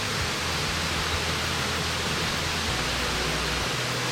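Junction Falls, a waterfall in the Blue Mountains, pours in a steady, dense roar of rushing water that fills the whole clip without a break, close and constant, with no voices.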